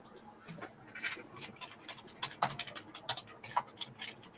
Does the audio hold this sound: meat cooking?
no